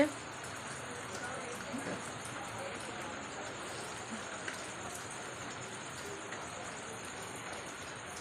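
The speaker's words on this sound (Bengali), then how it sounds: "এখনও কন্টিনিউ এইভাবে বৃষ্টি পড়ছে" Steady evening rain that has kept falling for hours makes a continuous, even hiss with no breaks, fairly faint and unbroken by any voice.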